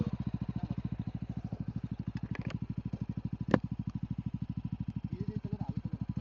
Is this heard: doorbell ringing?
no